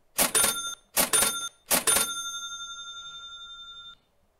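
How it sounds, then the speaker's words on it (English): A cash-register style bell effect played on a crypto news live stream: three quick bright dings in a row, the last ringing out with a sustained tone for about two seconds before fading. "Let me hit that bell"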